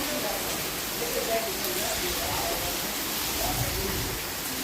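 Heavy monsoon-style downpour, a steady dense hiss of rain and running water filling the whole scene without a break, loud and close, with faint voices underneath.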